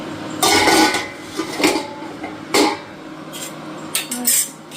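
A metal plate is pulled out and handled in a kitchen, several sharp clattering knocks and scrapes in uneven bursts, close and fairly loud.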